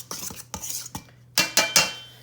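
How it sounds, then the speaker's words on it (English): A pastry blender scrapes and clinks against a bowl while baking powder and dry ingredients are mixed, giving several sharp metallic strikes in an irregular rhythm, close and moderately loud, with no talking. "So now I just use my pastry blender and I just mix that all around."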